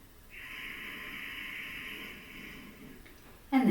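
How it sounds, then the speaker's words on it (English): Steady, close breath in a yoga session, a long sustained airy exhale that holds evenly for nearly three seconds before tapering off, followed by a brief louder rush of air at the end. "let's take 3 more breaths"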